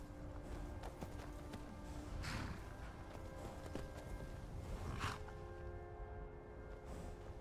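Hooves of a horse being ridden in the VR version of the game Skyrim, a soft continuous clip-clop at a steady walking pace, quiet and close, with a couple of swelling swishes and no talking.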